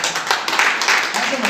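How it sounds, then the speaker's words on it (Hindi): Audience at a product launch clapping in a quick burst, a dense patter of many hands, fairly loud, with a voice speaking over it. "इतनी ताली, नए प्रोडक्ट में इतनी ताली"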